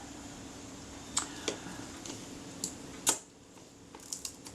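Small sharp mechanical clicks from a Retina IIa camera with corrosion, its shutter releasing alongside the film advance lever, sound as a handful of isolated, close, crisp snaps spaced irregularly against a quiet room.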